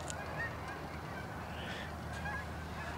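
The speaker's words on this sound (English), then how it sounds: "I can hear geese somewhere." Geese honk somewhere outdoors, distant and intermittent, under a steady rush of wind across the microphone.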